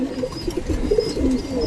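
Racing pigeons in a loft give soft, low cooing calls, several overlapping murmurs close by against a steady background hum, with no talking.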